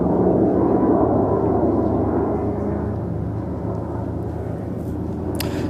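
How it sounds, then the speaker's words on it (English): An RQ-170 Sentinel drone passes overhead with a continuous rumbling roar that slowly eases off as it goes by. "I'm pretty sure this is one of these RQ-170 Sentinel drones."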